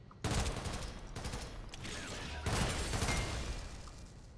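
Rifle gunfire in the video game SYNTHETIK 2, heard as rapid loud bursts of shots with a sharp onset, a brief lull and then a second sustained burst, with no talking.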